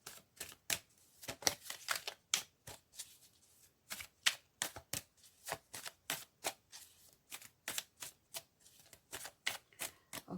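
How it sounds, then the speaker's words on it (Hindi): Tarot cards being shuffled by hand close up, a long run of sharp riffling bursts in a quick, fairly regular rhythm with brief gaps between, heard alone with no talking. "अब हम थोड़े से टैरो कार्ड्स भी शफल कर लेते हैं आपके लिए"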